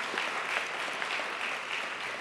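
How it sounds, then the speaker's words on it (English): An audience applauds at an evening community event in Santa Fe, New Mexico, a steady wash of many hands clapping at moderate distance, even in density with no voices over it. "I'd like to extend a round of applause"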